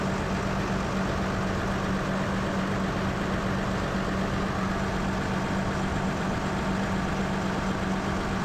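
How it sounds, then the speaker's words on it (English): An old tractor engine idles under light load, a steady low rumble with a constant hum running unbroken and evenly loud from start to finish. "I'm not pushing the engine hard."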